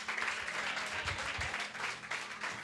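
Applause from a church congregation as a woman returns to her seat, a soft continuous wash of clapping that stays fairly quiet and even, with faint low voices or music beneath.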